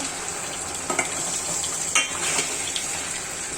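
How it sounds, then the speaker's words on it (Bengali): Jute leaves cooking in a pan with chili powder, salt, mustard and five-spice, a steady sizzle under a few soft scraping stirs, close and alone. "এখন নেড়ে দিব"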